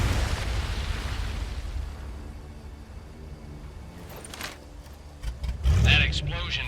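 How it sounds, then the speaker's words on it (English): A wartime explosion in the Medal of Honor VR shooter near a coastal lighthouse: a heavy, rumbling blast that roars loudly at the start, slowly dies away, then swells again in a sharper burst near the end. "That explosion got the attention of all the German patrols in the area"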